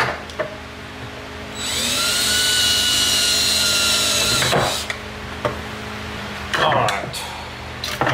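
A power drill with a 1/8 inch bit bores a hole while fitting running lights to an Xi3, a sustained high whine of about three seconds, close and loud, then brief knocks and handling noises.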